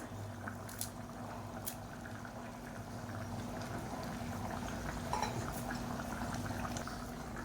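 Pea kulambu curry simmering in a pot, a faint, steady bubbling and soft popping of boiling liquid with a low hum underneath, quiet and continuous.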